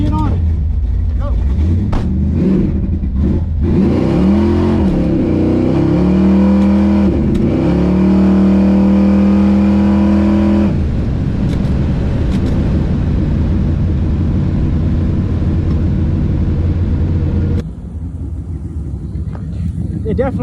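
A car launches down a dragstrip, its engine roaring loud and close as it revs and climbs through gears, sounding strained as if bogging on the hit, with people talking over the noise.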